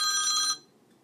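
A phone rings with a bright, steady electronic ringtone for about half a second and then cuts off abruptly. Only faint background hiss follows, and no one speaks.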